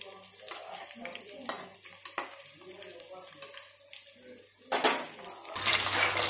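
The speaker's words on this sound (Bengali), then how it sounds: "আলুটা একটু ভাজা ভাজা হবে।" Potatoes frying in hot oil in a pan for Bengali dum aloo, a steady close sizzle broken by repeated scrapes and clinks of a metal spatula stirring against the pan, with a louder burst of sizzling near the end.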